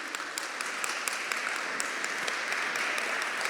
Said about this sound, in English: I want to give you all a round of applause for attending